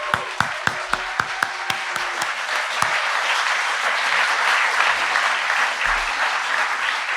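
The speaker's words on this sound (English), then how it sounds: "can we give them a round of applause?" Festival audience at an annual gathering breaks into applause, starting with a few distinct claps that swell into a dense, sustained ovation filling the hall for several seconds.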